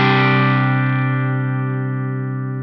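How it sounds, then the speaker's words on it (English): A single clean electric guitar chord played through a Fulltone GT-500 pedal rings out and decays slowly over a few seconds, sustained and full with no other sounds. "And this is what the clean tone sounds like,"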